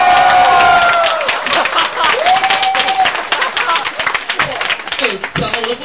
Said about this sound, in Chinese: 让我们以最热烈掌声来欢迎